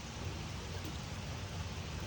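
Steady rain falls on a flooded side yard, a dense, even hiss holding at low level from start to finish with no voices.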